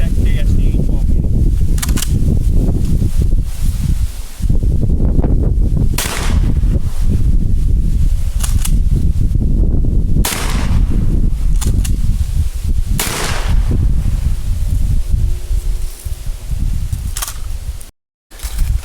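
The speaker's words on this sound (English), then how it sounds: "next up, 1-inch rifle barrel slugs out of this Kel-Tec KSD 12 gauge" 1-inch rifle barrel slugs fired from a Kel-Tec KSD 12 gauge shotgun outdoors: a series of loud, sharp blasts spaced a few seconds apart, each ringing out over a constant noisy background.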